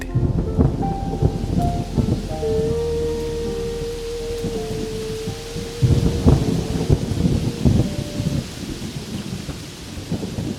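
Thunder rumbles and rolls over steady heavy rain in a stormy evening scene on a deserted open field, continuous and loud with deep surges, set under a tonal drama soundtrack without talk.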